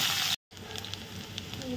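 Green chillies hit hot oil in a kadai with a loud burst of sizzling that cuts off sharply, then continues as a softer, crackling hiss while someone talks.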